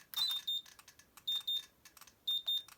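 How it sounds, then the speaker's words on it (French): Sanwa MT-44 RC transmitter gives several short paired electronic beeps, sharp and high, spaced evenly in doubles against near silence, with faint clicks between them. "le double bip qui me signale que j'ai demandé l'ouverture du boisseau"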